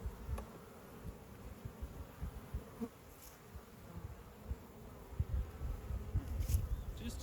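Buzzing of bees in a full, crowded beehive, a steady low hum from many insects close by, with soft bumps and handling noises scattered through it.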